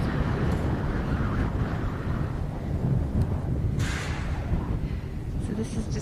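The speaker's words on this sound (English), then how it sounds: "Still windy as hell." Strong wind in Crestone, Colorado roars and buffets steadily throughout, a dense low rumble of gusts blasting the microphone with no letup.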